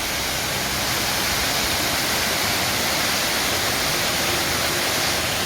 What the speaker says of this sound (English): Let's look at the water.